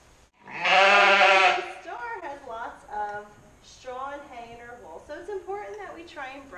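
A sheep at a shearing demonstration gives one loud, close bleat near the start, followed by a person talking over softer background sounds.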